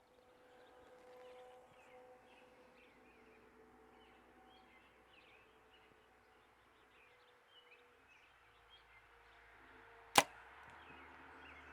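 A single arrow loosed with a hinge release strikes a target, a sharp, loud impact standing alone near the end after a stretch of quiet outdoor ambience with faint birds.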